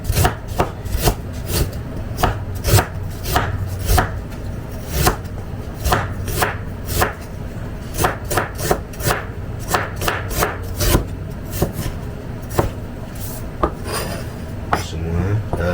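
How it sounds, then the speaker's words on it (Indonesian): A knife slices peeled shallots and galangal on a board for a black sambal from Madura: quick, close, crisp chops in an uneven rhythm of steady bursts with no speech. "udah dikupas, langsung diiris dulu teman-teman."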